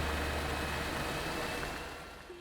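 Tractor engine in the game Astroneer running steadily at idle, a continuous low rumble with faint mechanical vibration, slowly easing off toward the end with no talk over it.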